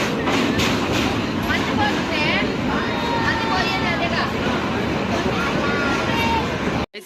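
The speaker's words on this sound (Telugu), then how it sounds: "కృష్ణా కెనాల్ బ్రిడ్జ్ మీద అయితే పోతుంది ట్రైన్." A passenger train crosses the Krishna canal bridge in Andhra Pradesh, heard as a loud, steady rumble with rhythmic wheel clatter throughout, with a faint babble of voices inside the carriage.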